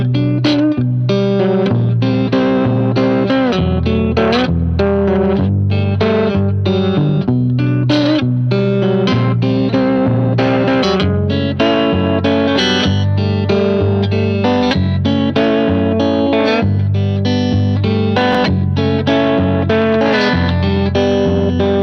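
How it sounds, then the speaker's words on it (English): Electric guitar played through a tube amp at the edge of breakup, pickup in the traditional position, with chords and notes ringing loud and warm under slight grit and a touch of chorus-like shimmer, steady throughout. "Tube amp at the edge of breakup, traditional pickup position."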